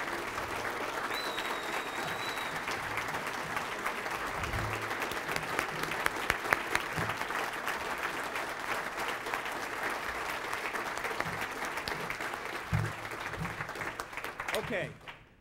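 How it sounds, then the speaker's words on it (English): A conference audience applauds the speakers with sustained, even clapping from a large crowd for about fifteen seconds, a few louder claps standing out, then it cuts off abruptly at the end. "if they would please stand up and take some applause, please"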